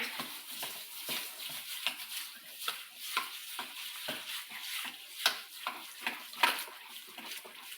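Sugar is being stirred into Jamaican potato pudding batter, a repeated scraping and squelching of a spoon in a bowl that keeps an even rhythm, close and fairly quiet, with a few sharper knocks.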